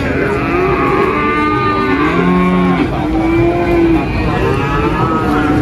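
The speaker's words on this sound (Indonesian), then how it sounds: "ini baru berdatangan sapi-sapi di limusin" Limousin and Simmental cattle arriving at a busy livestock market moo repeatedly, loud and close, several drawn-out calls over a steady crowd and vehicle rumble.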